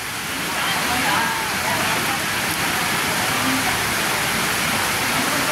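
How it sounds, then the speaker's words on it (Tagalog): Heavy rain pours down in a steady, dense hiss that swells in after a brief softer start and then stays loud and unbroken, with no voices heard over it. "Grabe lakas ng ulan ng Taiway."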